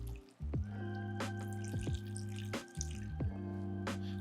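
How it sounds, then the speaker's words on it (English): Chicken stock poured into a pan for a lemon chicken sauce, a close, steady liquid gurgle and splash with shifting pitch as the stream lands. "I'm going to get my chicken stock in here"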